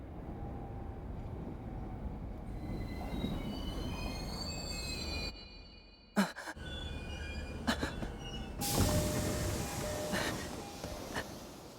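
Train pulling into a station in an animated film, with loud rolling wagons, sustained wheel squeal and rail clatter throughout, punctuated by sharp metallic bangs and a brief dip before the carriages rumble on.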